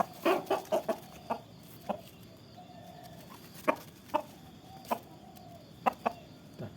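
Chickens recovering from a snoring respiratory illness cluck repeatedly in short, evenly spaced calls, moderately close over a steady farmyard background.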